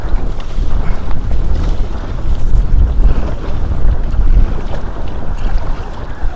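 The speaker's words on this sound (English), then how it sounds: "Very strong wind." Very strong wind roars and buffets the microphone on a small lake during an early-spring canoe outing, with lapping water beneath the gusts and no voices.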